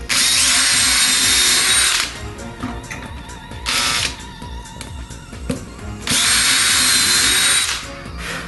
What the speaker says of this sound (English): We're just going to drill through.